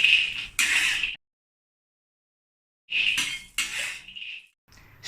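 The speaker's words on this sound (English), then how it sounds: "Then heat it up and add the groundnut into the wok." Groundnuts spill into a hot oiled wok in two short bursts of crisp rattling and clinking, close and bright, separated by a stretch of silence.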